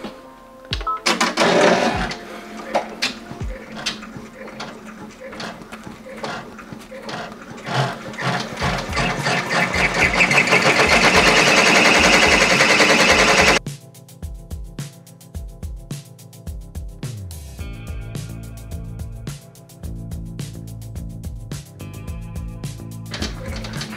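An embroidery machine stitches out a placement stitch in fast, steady mechanical clatter that builds louder for about twelve seconds, then switches to a quieter, rhythmic whirring pattern of repeated stitching pulses.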